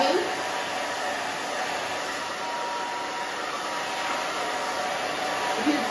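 A hair dryer blows steadily on hair being dried before round brushing for a bob cut on thin hair, a loud, continuous airy roar running unbroken throughout.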